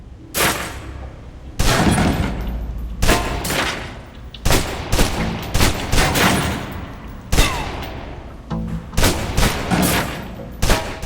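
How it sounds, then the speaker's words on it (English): Loud bursts of gunfire as a full magazine is emptied in the video game Alpha Protocol, about eight sharp volleys separated by short pauses, close and forceful with no talking. "Now let's empty the clip. Let you get a feel for the recoil."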